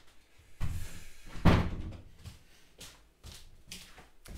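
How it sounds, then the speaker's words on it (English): Indoor door pushed shut, with a loud thud in the middle followed by several softer knocks and rattles as it settles, close by and without talk. "I've got to close the door, Sid."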